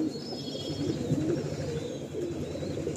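A restless Kalsira pigeon held in the hand gives low, throaty coos in short repeated phrases, close and clear against quiet surroundings.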